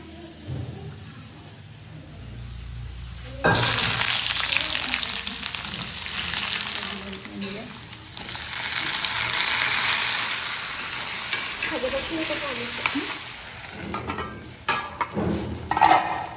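Dried fish and onions frying in a pan, a loud, steady close sizzle that starts suddenly after a quieter lead-in, with occasional utensil scrapes and faint background sounds.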